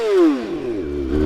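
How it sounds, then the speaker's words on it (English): A stunt motorcycle engine revs hard, its pitch dropping and climbing in a loud close blare that sounds like it bangs against the rev limiter. "I like to hit the rev limiter when I do that."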